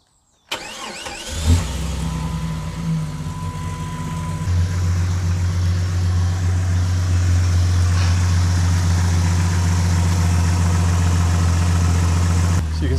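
A 20-year-old Jeep engine cranks and catches, then settles into a steady, smooth idle with a firm low drone that holds close and loud to the end.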